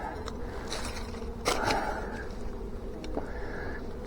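Honey bee swarm knocked loose from a swarm trap in briars, with a low, steady buzzing of many bees under brief rustling and handling noises, moderately faint.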